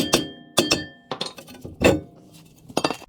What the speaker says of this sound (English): Without the bracket, we can remove the rotor.